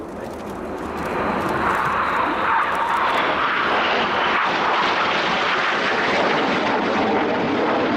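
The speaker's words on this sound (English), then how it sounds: "he and 7 now fly inverted close formation as 8 and 9 barrel roll around their smoke trails" Red Arrows RAF jets fly aerobatic formation at an airshow, a broad, steady roar that swells within the first second and holds loud and continuous, with no voices.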